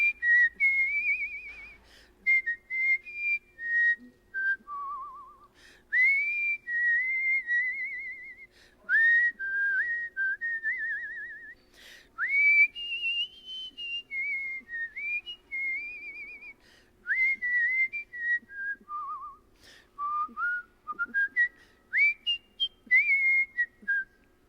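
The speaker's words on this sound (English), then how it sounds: "I would love to whistle for you a little bit of..." A man whistles a bright summertime tune solo, clear and close, with melodic phrases separated by short breath pauses throughout.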